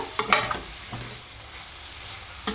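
Diced bottle gourd frying in ghee in a pan, a soft close sizzle with a few stirring scrapes and clinks spaced through the short stretch.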